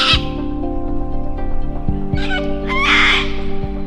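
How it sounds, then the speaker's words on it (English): Sulfur-crested cockatoos in a forest in the Dandenong Ranges, Australia, letting out harsh, loud shrieks in two bursts over a background of steady tonal birdsong. "Likely sulfur-crested cockatoos"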